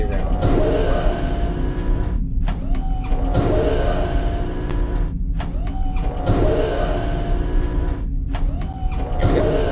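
Rotating room mechanism in the Myst remake, a motorized whirring hum that repeats in about four cycles, each starting with a sharp clunk and ending in a descending whine, loud and close with no talk.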